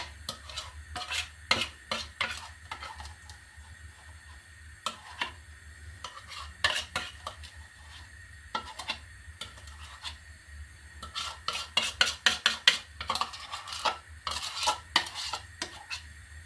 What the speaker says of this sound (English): You've got to keep stirring it